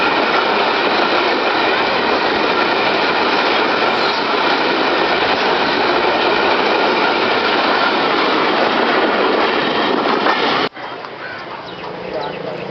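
A South Korean-built GMU30 diesel locomotive runs on a railway in Pakistan, its loud, steady engine roar and rail noise filling the scene before the sound drops abruptly near the end.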